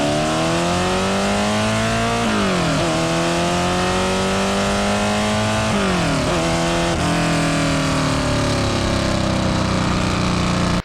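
A Ford GT40 with a fuel-injected, roughly 580-horsepower high-revving engine revs hard toward an 8,000 RPM redline, loud and close, its pitch climbing, dipping with each throttle lift and surging again in continuous roaring sweeps.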